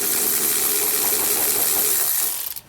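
Bolts on TorkLift tie-downs for a 2021 GMC Sierra 2500 tightened with an 11/16 socket on a power driver: a loud, steady whirring buzz runs for over two seconds, then winds down and stops.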